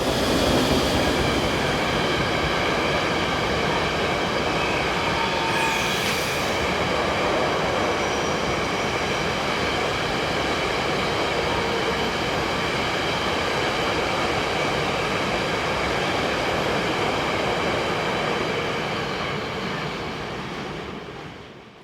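Austrian electric locomotive hauling a train of empty hopper wagons on the Semmering line, a loud, steady rumble and wheel noise passing close by for the whole stretch, fading slightly at the end, with no talk.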